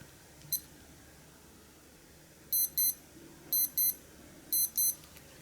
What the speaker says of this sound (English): So yeah, just a regular Casio beep there.